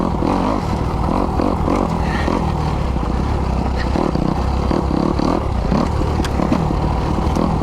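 A Kawasaki KX250X dirt bike engine drones steadily while riding through snow, loud and close, with rhythmic pulsing revs and clattering throughout.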